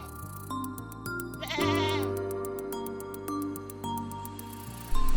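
Sheep and goats out grazing bleat repeatedly, one loud wavering cry standing out midway over a layered backdrop of other animal calls and a steady rhythmic ticking, fairly close and continuous throughout.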